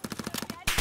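Rapid gunfire in the battle royale Warzone comes as a quick burst of evenly spaced shots, then a harsher, louder crackle as armor breaks under the hits.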